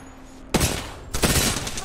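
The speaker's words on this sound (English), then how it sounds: "They spotted me. I'm taking shots." Two loud, close bursts of gunfire in Apex Legends, each a sharp broadband crack with a short rattling tail, separated by about half a second of quiet.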